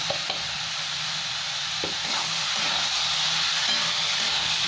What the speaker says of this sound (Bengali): টমেটোটাও ভালো করে ভেজে নেবো আমি